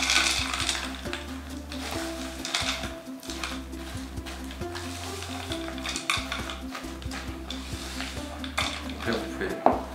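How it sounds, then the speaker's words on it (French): Hazelnuts are worked into cookie dough in a bowl, giving continuous churning, scraping and clattering stirring noise with rhythmic thumps, fairly close and loud, with no voice. "vous pouvez voir toutes les noisettes qui commencent à se mélanger dans la pâte"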